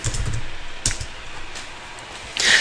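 Typing on a computer keyboard while entering text in mind-mapping software: a short run of soft, close keystrokes with a louder, sharper press near the end, no voices.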